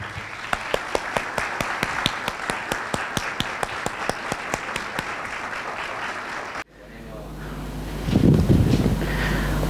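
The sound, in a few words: audience applause welcoming a speaker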